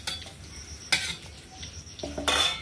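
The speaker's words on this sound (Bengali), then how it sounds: "বিনস আর গাজরটা আমি দিয়ে দেবো, দিয়ে ওটা ভালো করে আমি ভেজে নেব" Beans and carrots frying in a pan, with a soft sizzle under a few sharp clinks and scrapes of a metal utensil against the cookware, close and brief, without speech.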